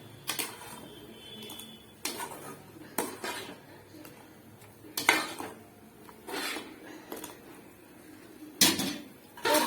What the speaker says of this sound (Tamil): இப்போ நல்லா கிளறி விட்டுக்குங்க.